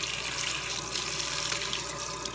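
Tap water pours steadily over boba tapioca pearls as they are rinsed, a close, continuous hissing splash with no pauses.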